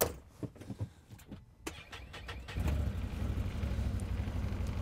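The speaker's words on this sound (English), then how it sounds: "Let's fire it up, because I know everybody always wants to hear how these things sound" A 2021 Can-Am Commander XT UTV engine starting from inside the cab: a few clicks and brief cranking, then the engine catches at about two and a half seconds and settles into a steady, moderate idle rumble.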